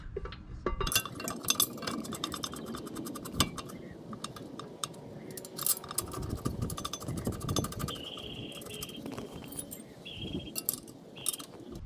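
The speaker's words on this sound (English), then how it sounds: "Putting on the caliper mount." Metal clinks and scrapes of a rear brake caliper mount being fitted on a 2010 Subaru Outback, with scattered close taps, rattles and brief tool contacts in an irregular rhythm against quiet garage background.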